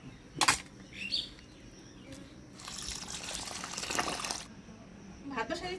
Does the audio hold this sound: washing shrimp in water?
yes